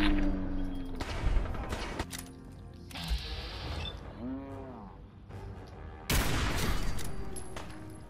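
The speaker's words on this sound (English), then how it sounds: "Did you really just fucking shoot at me?" Bursts of video game gunfire, loud clustered shots at the start and again near the end, with mechanical clatter and whooshing effects between volleys, no talking.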